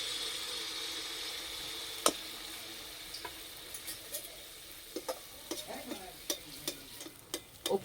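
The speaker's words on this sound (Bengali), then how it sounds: "তেল গরম হয়ে গেছে, এবার ভেজে নেব।" Palm and semolina batter pitha frying in hot oil gives a steady, fairly quiet hiss, with scattered small pops and crackles growing more frequent toward the end. No speech.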